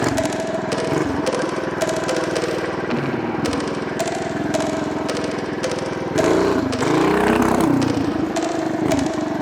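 A mini bike engine fitted with a Juggernaut torque converter runs loud and close, droning steadily and then revving up harder near the end with a rising, rattling roar.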